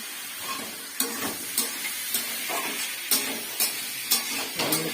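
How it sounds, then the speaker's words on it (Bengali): Rohu fish curry cooking down in a pan on low gas: a steady sizzle with a rhythmic series of spoon scrapes and clacks, about one per second, close and clear. "তরকারি কষানো হচ্ছে, মাছ দিয়ে, পোনা মাছ দিয়ে মাছের ঝোল হবে"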